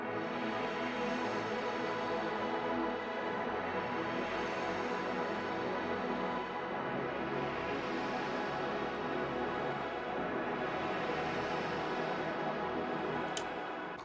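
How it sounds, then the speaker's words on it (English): A dense, sustained synth pad from the Pigments synthesizer swells softly and evenly for a long stretch, a wide wash of tone with no voice over it. "I started off with this pad from Pigment"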